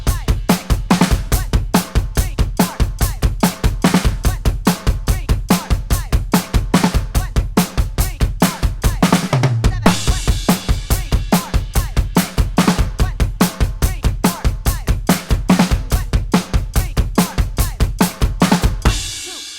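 Rock drum kit playing a driving beat in 7/4 at about 144 bpm, steady eighth notes pounding on the kick with crisp snare and cymbal hits, loud and continuous, with a brief fill near the middle.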